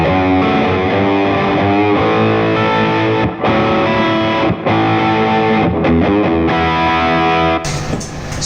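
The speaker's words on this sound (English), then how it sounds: "first we've got the Ceriatone Centura with all the settings at 12 o'clock" Electric guitar played through a Ceriatone Centura overdrive pedal with every knob at noon, giving a loud, continuous, sustained crunchy chord passage with a few brief pauses between strums and a different tone creeping in at the very end.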